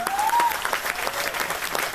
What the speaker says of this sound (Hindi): उसके लिए जोरदार तालियां बजनी चाहिए।